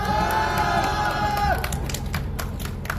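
A crowd at an evening candlelight protest rally in Daegu cheers, shouts and whoops with scattered clapping, loud and continuous throughout, with voices rising over the din.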